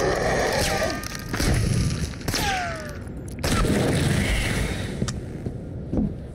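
Gunfire in the Into The Radius VR game: heavy booming shots and bursts over a loud, dense bed of game noise, with whooshing and a falling whistle-like tone between blasts.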